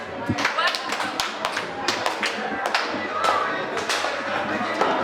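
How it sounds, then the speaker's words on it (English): Birthday party guests clap together in a room, a run of sharp, fairly close hand claps and taps with a few thumps, keeping up steadily over roughly five seconds amid background crowd noise. "If you can hear me, clap 10 times."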